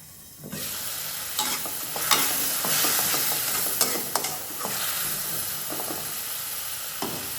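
Masala and onions fry in a covered pan with a steady sizzle, and a spoon scrapes and stirs in repeated clinks and strokes. The sound is close and continuous, with no talking.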